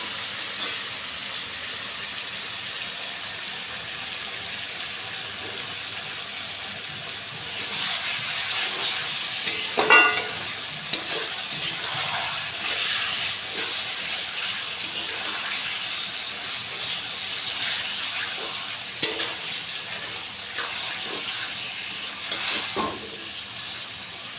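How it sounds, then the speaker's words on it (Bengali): Chicken and reddish-browned onions sautéing in a pan, a steady broadband hiss and sizzle with occasional louder scrapes of stirring, fairly constant and unaccompanied by talk. "এবার পেঁয়াজটা দিয়েছিলাম লালচে লালচে করে তার উপরে চিকেনটা দিয়ে ওটা কষিয়ে নেবো ভালো করে"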